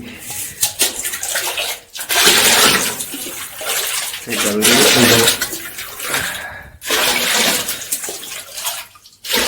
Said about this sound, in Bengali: আমি ঠিক এইভাবেই জল তুলি